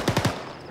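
A quick burst of three machine gun shots from Arma 3 combat, sharp and evenly spaced, loud and up front with no talk.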